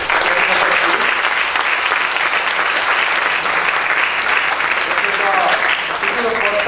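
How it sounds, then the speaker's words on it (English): A large audience inside a university auditorium at BITS Pilani claps steadily and loudly for several seconds, the applause continuous and full throughout. "let us give them a big round of applause"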